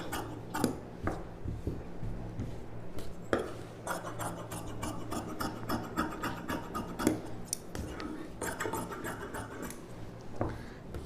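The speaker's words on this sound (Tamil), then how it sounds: "இந்த அளவு போட்டு இந்த ஷேப்புக்கு அப்படியே கட் பண்ணிக்கலாம்." Scissors cut through pattu silk saree blouse fabric with a continuous run of close snips and cloth rustles, steady and busy throughout with no talk.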